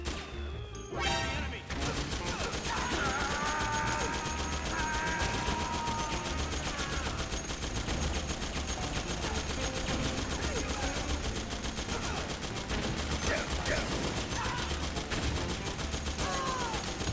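Machine-gun fire in the Metal Gear Solid 4 video game crackles in sustained, dense bursts over game music and effects, with a voice talking at times.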